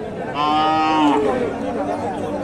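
A young, slightly thin cow lows once at a busy village cattle market, a single loud, drawn-out moo lasting about a second, then fading into steady background market noise.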